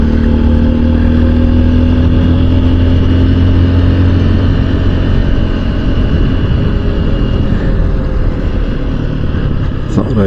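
A small Honda XR150L dual-sport motorcycle runs continuously on a road near Casper, Wyoming, its engine drone loud and steady with a rider's voice occasionally over it.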